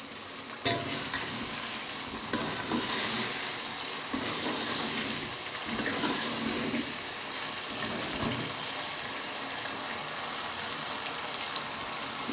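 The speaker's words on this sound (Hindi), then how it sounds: "ये आप देख रहे हैं फ्राई हो रहा है चिकन" Chicken frying in masala for a chicken dal mash, a continuous soft sizzle with occasional stirring scrapes in the pot, fairly quiet and steady.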